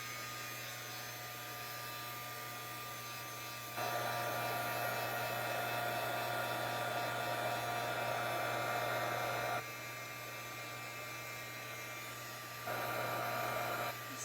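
A handheld heat tool blows over a freshly stamped card for embossing, giving a steady whirring rush that gets louder during two longer passes, with no voices.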